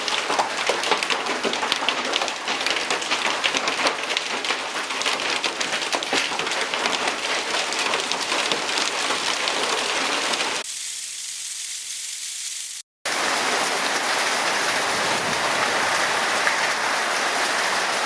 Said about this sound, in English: You hear the big storm coming?